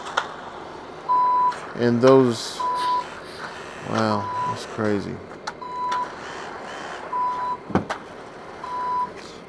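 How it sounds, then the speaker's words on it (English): A concrete truck backs up on a residential pad pour site, its reversing alarm giving regular short beeps at an even pace over engine noise, while someone talks in bursts between them. "now they're moving the truck over"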